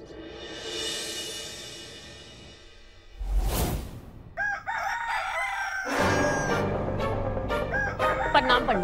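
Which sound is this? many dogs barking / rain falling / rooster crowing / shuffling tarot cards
rooster crowing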